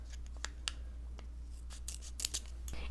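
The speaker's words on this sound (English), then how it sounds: "so I'll just have to cut it" Scissors snip through a Tatcha skincare sachet with no perforation, a few quiet crisp cuts spread across the moment, faint and close with a low steady hum underneath.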